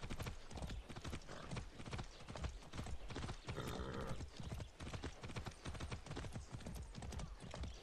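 Horse hooves clip-clopping steadily as a rider passes by in Far Cry 6, a fast, even rhythm of close, loud hoofbeats running throughout, with a brief whinny partway through.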